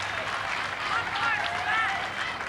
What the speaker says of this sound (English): As we just hear that cheer is for Arakua coming off